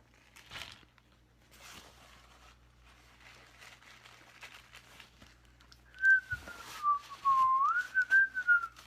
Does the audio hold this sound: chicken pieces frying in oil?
no